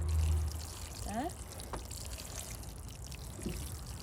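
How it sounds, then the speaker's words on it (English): Water poured from a can onto compost in a seed tray, a soft steady trickle close by, with a brief voice partway through. "I'll water this first before I put the seeds in"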